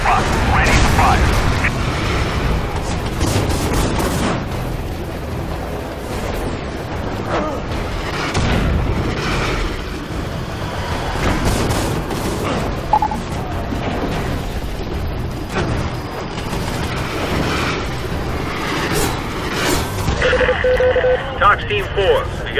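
Booming artillery barrage explosions in the game Prototype pound repeatedly under radio-style military chatter, loud and dense throughout.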